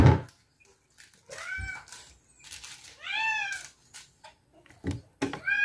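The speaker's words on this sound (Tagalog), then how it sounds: "Pasensya na po sa pusa ko mga ka-farms. Maingay talaga." A cat meows loudly several times in drawn-out, rising and falling cries, with short pauses between them and a clatter at the start.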